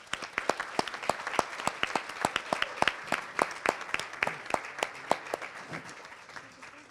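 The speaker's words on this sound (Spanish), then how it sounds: "yo pediría un aplauso" A small audience at a congress session claps, with distinct, fairly sparse hand claps repeating quickly and loudly for several seconds before thinning out.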